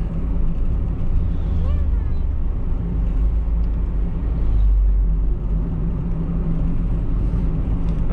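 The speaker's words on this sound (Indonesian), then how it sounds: "Pakai gigi tiga ya, jadi tendangan tenaganya mantep bener." A Daihatsu Sigra 1.0 with manual transmission pulls in third gear on a highway at night, its engine and road rumble droning steadily and loudly throughout, with a voice speaking over it.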